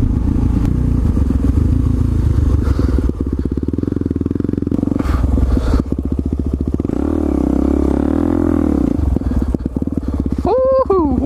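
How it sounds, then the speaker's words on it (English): A supermoto motorcycle engine roars loudly and steadily during a wheelie, with rising revs and a sharp rev climb near the end, while a rider talks over it. "Nothing better than pulling a freaking beautiful wheelie."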